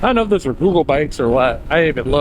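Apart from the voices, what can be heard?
None of the usual background noises is heard.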